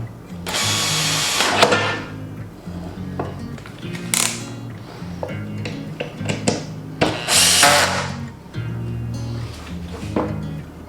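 Power drill tightening roof cross bar bolts on a 2015-2020 Jeep Renegade, several close whirring bursts of varying length with ratcheting clicks and brief pauses between runs, no speech.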